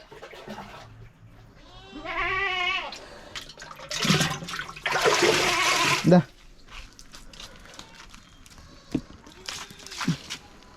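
A goat bleats with a wavering, nasal cry while being fed on a farm, followed by rustling and splashing noise and a few short, faint calls, with a voice speaking briefly in between.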